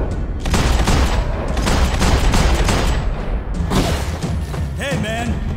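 Dense video game gunfire crackles in rapid, continuous bursts with heavy thuds, loud and close, while voices shout over the shooting.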